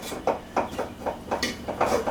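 A spoon scrapes and clinks around a pot of simmering milk-based vodka sauce, close up and fairly quiet, about eight short strokes in a steady rhythm.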